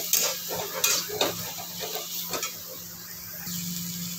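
Mixed vegetables with spices and garlic fry in a pan under a steady close sizzle, with several sharp metallic stirring scrapes and clinks early on, then a quieter hiss; no one speaks.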